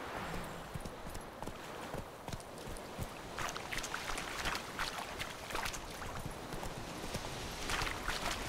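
Horse hooves clip-clop steadily along a dirt path while riding in The Witcher 3, a continuous rhythmic trot under ambient outdoor game sounds, moderately loud and close.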